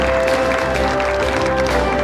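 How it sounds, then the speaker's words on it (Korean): An audience at a corporate investment announcement event claps in a steady, dense burst of applause, with an electronic hum running underneath. "큰 박수 부탁드립니다"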